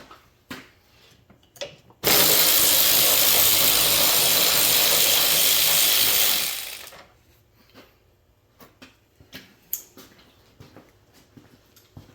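A ratchet removes a 10 mm bolt from a 2015 Hyundai Sonata headlamp assembly. It makes one loud, steady whirring burst of about five seconds, then light scattered clicks and handling noises.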